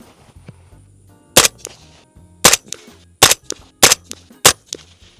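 Gunshots from a PSA JAKL rifle firing Magtech ammunition at a range: six sharp, loud reports spaced irregularly about a second apart, with quiet gaps between them.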